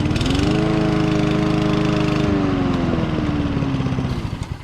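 Lawn mower engine running at high revs, a loud steady harmonic drone that holds close and continuous, with a brief shift midway as the pitch settles slightly lower before tapering near the end.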